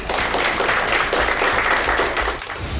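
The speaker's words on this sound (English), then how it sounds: "Give yourself a round of applause." Navy recruits at boot camp applauding together in a short burst of dense, loud clapping from a group, with no voices over it.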